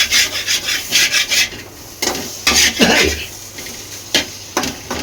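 Potatoes are stirred in a pan at home, giving close scraping and rubbing strokes of a utensil against the pan in irregular bursts with brief pauses between them.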